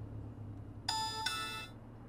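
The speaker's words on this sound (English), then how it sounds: "A little chime as soon as we stepped in?" Short electronic car chime on getting into a vehicle in the video game Cyberpunk 2077, two bright tones in quick succession, clear and fairly loud over a low hum.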